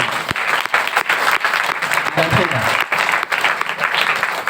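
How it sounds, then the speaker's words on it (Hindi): Loud, dense applause from a large church congregation at a Sunday prayer service keeps going steadily, with claps crackling throughout and a brief voice rising in the middle. "जोरदार ताली से प्रभु को धन्यवाद।"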